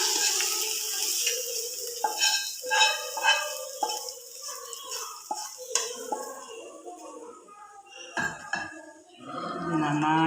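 A spoon clinks and scrapes against a bowl as a ginger mixture is stirred into yogurt for ginger kichadi, light rhythmic close knocks with a voice speaking in between.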